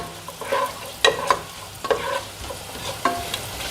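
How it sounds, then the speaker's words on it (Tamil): Whole fennel and cumin seeds crackle and sizzle in hot oil, with several sharp scraping stirs of a spoon in the pan. "இப்படி சோம்பு சீரகம் எல்லாத்தையும் பொரிய விட்டுடலாங்க."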